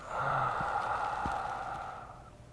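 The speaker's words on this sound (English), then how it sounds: "exhale over" A slow, audible exhale during a somatics stretching exercise, heard close and breathy for about two seconds before fading, with no talk.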